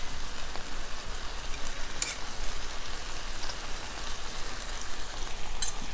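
Fish sizzles in a pan as it cooks on its second side for fish Veracruz, a steady close crackling hiss with scattered small pops, heard alone without talk.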